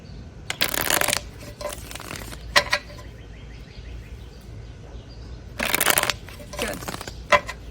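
A deck of playing cards is shuffled in several quick riffling bursts, two or three close together early on and another pair near the end, with short pauses and faint room noise between them.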